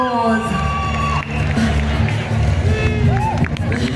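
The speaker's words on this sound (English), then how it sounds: "Round of applause, please. Make those hands clap." A large crowd at the Miss Tourism Uganda grand finale cheers and applauds loudly and continuously, with shouts and whoops rising over the dense roar while a voice talks over it.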